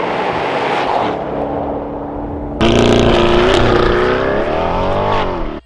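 A car engine roars loudly at top speed, about 171 mph, its pitch climbing steadily, with a sudden jump in intensity midway as it pushes harder.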